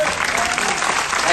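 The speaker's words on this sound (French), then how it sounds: "Un grand bravo pour lui, applaudissez." Dense audience applause at a convention in Lyon, loud and continuous, filling the whole short moment with steady clapping.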